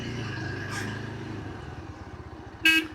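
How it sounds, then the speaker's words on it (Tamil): On a narrow village road near Kookal in the Kodaikanal hills, a vehicle passes close by with a low engine rumble, and a short sharp horn toot sounds near the end. "எப்போவாச்சும் இந்த மாதிரி ஒரு வண்டி வரும் கிராஸ் ஆகும் இடையில"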